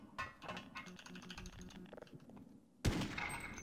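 Gunfire in the co-op shooter game Sven Co-op: rapid, busy shots and clatter through most of the moment, then a louder burst near the end, with no talk over it.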